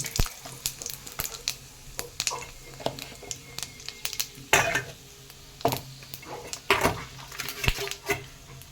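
Spices for a chutney tempering hit hot oil with sharp crackles and pops, irregular bursts scattered over a soft background hiss, fairly close and moderate in level, with no voices.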